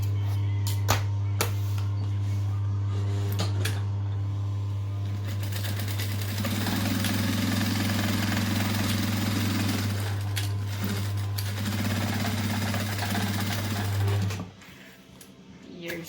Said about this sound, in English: Back stitch at the start as always, and then sew down that seam.